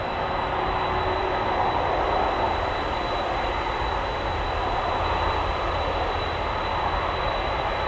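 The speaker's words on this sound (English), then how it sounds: "you can almost feel the ground shake because of these planes just taxiing so close to you" Large cargo jets taxi close by at Anchorage airport, making a continuous loud broadband roar that holds steady with no voices.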